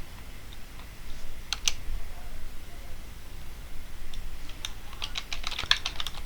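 Someone types on a computer keyboard, a light irregular clatter of keystrokes up close. It starts sparse and grows into a quicker run near the end over a quiet room hiss.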